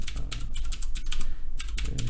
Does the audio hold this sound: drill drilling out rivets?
no